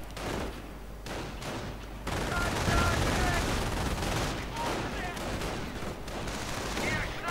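Gunfire strikes grenadiers in a WWII real-time strategy battle, a dense, continuous fusillade of rifle and machine-gun shots with scattered impacts under a steady wash of combat noise.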